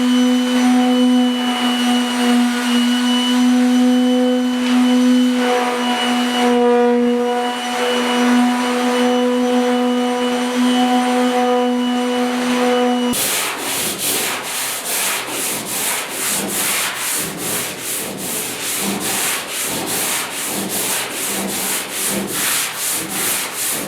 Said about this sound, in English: palm sander works awesome